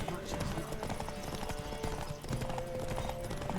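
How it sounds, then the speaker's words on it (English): A horse gallops in The Witcher 3, its hoofbeats a fast, steady clip-clop that runs the whole way under dense, constant game sound. "So let's see how great this horse really is."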